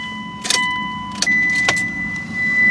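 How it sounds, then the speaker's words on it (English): A car ignition key is turned to the on position, giving a few sharp metallic key clicks and jangles, followed by steady electronic chimes and a low vehicle hum. "now I'm gonna turn the ignition"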